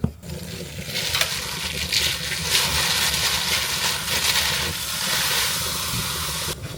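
Chunk of lean beef frying in a hot pan, a continuous close sizzle and hiss with faint crackling, steady throughout without talk.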